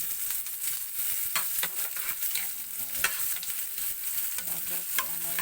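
Garlic and onion sautéing in a pan, a steady close sizzle with occasional stirring clinks and scrapes, continuous and fairly quiet with no talking.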